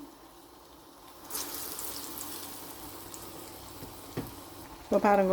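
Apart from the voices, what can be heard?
ulundu vadai frying in oil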